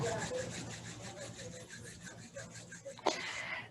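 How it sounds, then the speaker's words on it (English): Palms rub briskly together in a quiet room, a soft dry swishing friction repeated several times, close and steady. "just taking your palms and rubbing your palms together"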